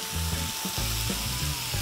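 Garlic sizzles in a pan with chopped mushrooms, giving a steady, close frying hiss with a low pulsing hum underneath, heard briefly and alone.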